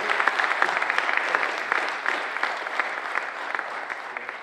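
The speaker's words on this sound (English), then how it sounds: "So can we give a big round of applause for the best Cleo technology book?" A tech expo audience claps for a speaker, a thick run of many hands with crisp individual claps sticking out, moderately loud and slowly easing off near the end, with no speech.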